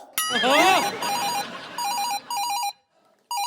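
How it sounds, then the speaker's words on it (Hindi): A telephone rings in repeated electronic trills, loud and near, with a pause between bursts, while a voice speaks over the start. "मेरी बीवी का फोन है।"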